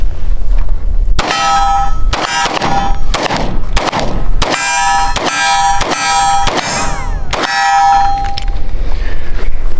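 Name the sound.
shots fired from a narrow Glock pistol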